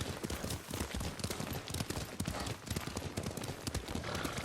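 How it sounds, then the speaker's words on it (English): Horse hooves clip-clop in a steady, even rhythm as a rider travels across the landscape in the Ghost of Tsushima video game, loud and close with continuous ambient noise behind them. "Lord Sakai taught me to ride a horse."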